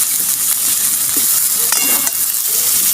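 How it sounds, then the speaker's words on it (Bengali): Food frying in a pan for vegetarian ghugni, a steady close sizzle and hiss with occasional soft stirring scrapes, no talking. "এইভাবে ভেজে নিয়েছি খুব সুন্দরভাবে"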